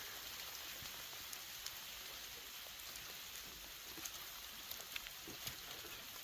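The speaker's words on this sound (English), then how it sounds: "Sleet." Sleet falls steadily outdoors as a soft, dense patter of icy pellets, a continuous close hiss with occasional sharper ticks of individual hits.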